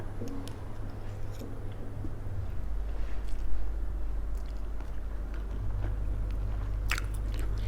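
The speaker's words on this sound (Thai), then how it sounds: "เริ่มลงมือกินข้าวกันเลยทุกคนจ้ะ" Someone eats tom yum soup with tilapia and rice, giving soft, steady chewing and biting sounds close to the mic over a low background hum, with no talking.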